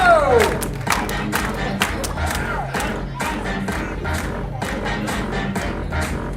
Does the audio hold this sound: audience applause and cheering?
yes